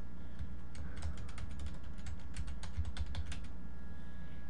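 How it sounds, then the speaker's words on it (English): Rapid clicking on a computer keyboard comes through as a quick run of light keystrokes that then stop, close up over a steady low hum. "And press the enter key on the keyboard."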